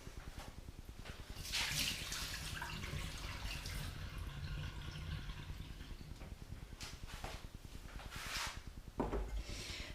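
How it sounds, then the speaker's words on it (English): Hot water drained off parboiled root vegetables for rostis, a steady rushing pour and splash in a kitchen sink lasting throughout, with no talk. "So I'm now just going to drain away that water."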